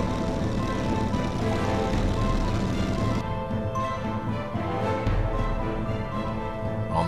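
Propeller engine drone of a P-51C Mustang on a descending curved approach with flaps and wheels down, a steady loud cabin roar that holds throughout with no talking.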